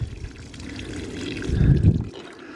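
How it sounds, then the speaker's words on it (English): Water mixed with water-soluble fertilizer is poured onto the base of a cucumber plant, a steady splashing pour that swells louder toward the middle before tapering off. "First place that I want to water, or water with the water-soluble, is right at the base."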